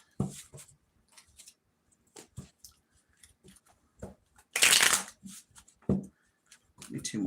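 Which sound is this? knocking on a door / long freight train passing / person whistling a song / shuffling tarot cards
shuffling tarot cards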